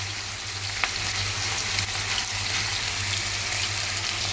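A burger patty fries in a very hot pan with a little oil, giving a loud, continuous, steady sizzle with a low hum underneath and no talking.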